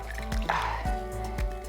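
Indigo dye water dripping and trickling back into a dye bath from squeezed hand-woven cotton fabric, several distinct close drips over a soft liquid trickle, with a faint hum beneath.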